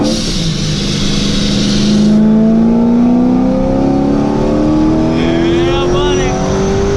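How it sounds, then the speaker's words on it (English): A Chevrolet Corvette C7 with a ProCharger supercharger accelerates, its loud engine roar topped by a rising supercharger whine that climbs steadily in pitch, heard close from inside the car with the window down. "Listen to that thing, dude. ProCharger's so loud."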